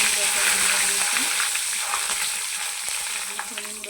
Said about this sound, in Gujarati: આવી જ રીતે આપણે બધા પૌવા તળી લેવાના છે